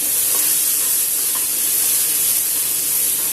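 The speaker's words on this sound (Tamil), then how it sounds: "வெங்காயம் ஆட் பண்ணி கொஞ்சம் உப்பு சேர்த்து இதில் வதக்கிட்டு" Onions sauté with salt in a pan for a potato side dish, a steady, loud sizzling hiss running unbroken and evenly with no voices over it.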